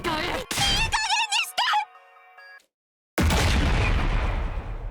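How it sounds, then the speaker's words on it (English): Large explosion in The Hundred Line: Last Defense Academy, a sudden loud broadband blast that follows a brief silence and roars on with a long rumbling tail, preceded by spoken game dialogue and music. "Another explosion"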